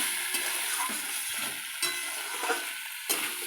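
Spice paste and pointed gourd curry sizzle steadily in a pan while a spatula scrapes and stirs, with several sharp strokes punctuating the continuous close frying hiss.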